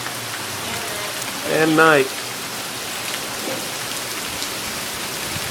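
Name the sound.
rain falling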